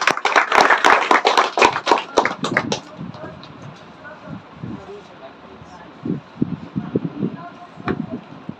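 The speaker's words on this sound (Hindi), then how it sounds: "मौसम कुमारी के लिए एक बार तालियां।" Audience applause at a school award ceremony, a dense burst of many hands clapping for about three seconds, then fading into scattered claps and murmuring voices in a hall.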